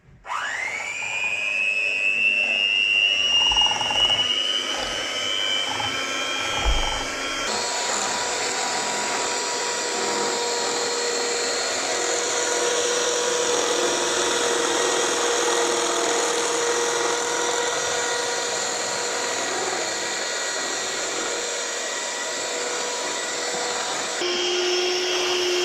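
An electric hand whisk whirs steadily through Kinder brownie batter in a home kitchen, a loud continuous motor whine that rises sharply at start-up and holds for a long stretch, with faint clatter underneath.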